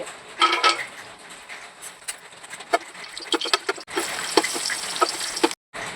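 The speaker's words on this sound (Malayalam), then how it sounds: "എണ്ണ ചൂടായി വന്നിട്ടുണ്ട് അതിലേക്ക് നമ്മൾ എടുത്തു വെച്ചിട്ടുള്ള അണ്ടിപ്പരിപ്പും മുന്തിരിയും വറുത്തെടുക്കാം" Cashews and raisins fry in hot oil in a pot, a close, steady sizzle broken by sharp metallic clinks and scrapes of a spoon against the pot, with no voices.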